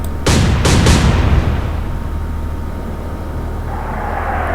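Naval ship guns firing in the WWII video game Atlantic Fleet: three loud, close booms in quick succession, each trailing into a long rumbling decay under a low steady drone.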